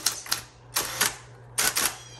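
A 1960s Smith Corona Coronet Automatic 12 electric typewriter types in short clattering bursts of rapid keystrokes over a steady low motor hum, close and clear.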